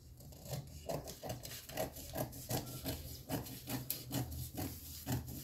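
Scissors snip through fabric for a child's wrap-front shorts, a faint, close run of rhythmic cutting strokes repeating steadily with no talk.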